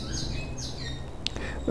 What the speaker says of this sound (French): il y a un oiseau qui est en train de... Je ne sais pas si tu l'entends, mais il me déconcentre.